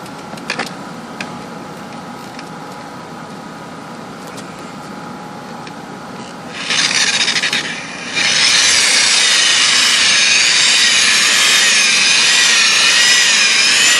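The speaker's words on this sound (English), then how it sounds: "James is polishing now" A machine polisher works the wet-sanded clear coat on a car, starting up after a quiet stretch with faint handling knocks, then a loud, steady whir that holds to the end.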